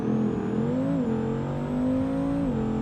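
Tuned car in a BeamNG drag race, fitted with racing suspension, a welded rear differential and a 300 shot of nitrous, screams down the strip with a loud, steady high-pitched engine drone that climbs through gear changes.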